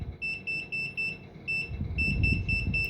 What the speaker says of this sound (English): continuity test in this multimeter is fine